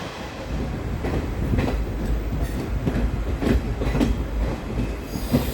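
Ernakulam–Pune Superfast Express train climbing a steep monsoon gradient toward Lonavala through the Bhor Ghat, banker engines pushing at the rear; a steady rumble of wheels and carriages rolls on with faint rhythmic clicks and squeals.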